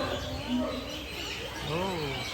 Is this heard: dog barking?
no